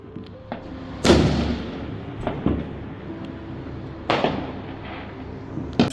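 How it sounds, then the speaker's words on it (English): Fireworks go off in the distance, a few sharp bangs and crackles scattered over a low steady background rumble. "it's just because there's fireworks going off"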